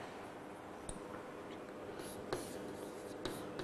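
Marker or chalk writing on a board during a physics lecture on electricity, soft continuous scratching strokes with a few sharp taps, close and alone without talk.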